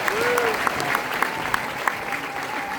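A crowd at an Army family day display at Fort Jackson claps in a steady wash of applause, with a few sharper individual claps standing out and a faint voice or whistle-like tone under it.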